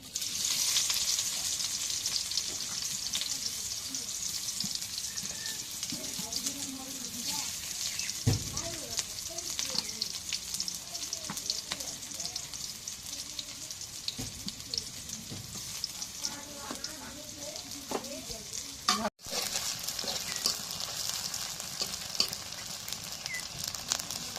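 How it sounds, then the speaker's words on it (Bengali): Chopped onions sizzling in hot oil in a wok, a steady, close frying hiss that runs throughout, with occasional stirring clatter and a brief cut near the end. "এখন ওই তেল দিই কড়াইয়ের মধ্যে। পেঁয়াজ কাটা দিই।"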